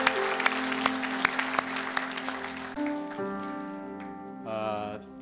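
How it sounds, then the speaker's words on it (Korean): A church congregation applauds during a Sunday worship service, a steady patter of clapping that gives way after a few seconds to sustained tones, likely organ or keyboard music. "하나님께 감사의 박수 올리겠습니다."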